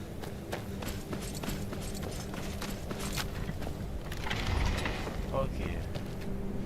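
Horse hooves in Skyrim clopping at a steady rhythm, mid-distance and moderately loud, with a busy mechanical game backdrop and a louder swell partway through.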